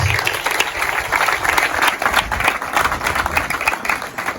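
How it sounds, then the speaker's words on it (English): Audience of school representatives at an educational donation event breaking into sustained, dense applause, loud and continuous with crowd noise mixed in. "For all the schools present, I want you to give yourselves a big round of applause."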